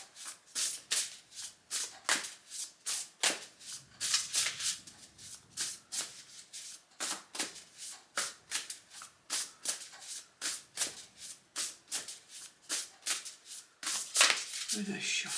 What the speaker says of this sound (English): Giving the deck a good old shuffle.